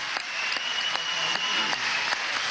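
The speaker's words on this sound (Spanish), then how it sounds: "Un aplauso a los trabajadores de Movilnet." Audience applause at a Cantv collective contract signing ceremony with President Nicolás, honoring Movilnet workers; sustained, dense clapping from a large crowd, steady throughout with no speech.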